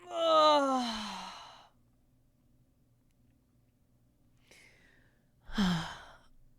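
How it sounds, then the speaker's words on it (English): A person yawns in a long, loud, voiced exhale that falls in pitch. A quiet pause follows, then a shorter breathy sigh-like sound close to the mic. "I just yawned."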